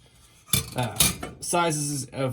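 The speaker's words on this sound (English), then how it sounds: "To pull the pan out, just lifts out." A metal drip pan is lifted out of a Frigidaire electric stove burner, giving a couple of sharp metallic clinks and rattles close to the microphone while a person talks.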